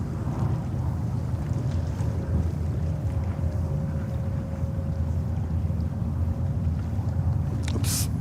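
A Lufthansa Airbus A350 arrives at JFK in heavy winter wind, heard as a steady low jet rumble mixed with strong wind buffeting the microphone, with a faint whine running through it.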